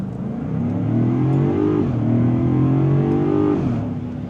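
A Land Rover Defender 130 with a supercharged V8 revs and accelerates loudly up close, its engine note climbing in pitch, easing off, then climbing again, with no speech.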